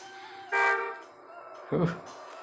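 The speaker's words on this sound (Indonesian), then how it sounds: "Nah, klaksonin terus. Biar bisa nyalip." A bus horn in the video game Bus Simulator Indonesia sounds twice, a short blaring honk followed by a brief second toot, over a steady engine drone.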